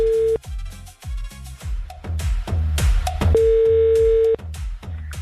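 Telephone line tones ring out as a radio studio calls a listener, a steady tone sounding in two long stretches between bursts of rhythmic music, loud with no talk over it.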